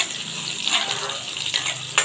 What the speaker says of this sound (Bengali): নারকেলটা ভাজি হয়ে গেছে